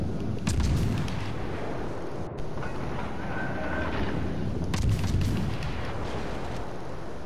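Warship guns firing in World of Warships: Legends, a few deep booming blasts over a dense, continuous roar of battle noise, loud and close, with no talking.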